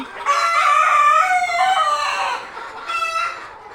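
Desi chickens and chicks clucking loudly and close on a farm, with a rooster-like crowing call running through the first two seconds and another burst near the end.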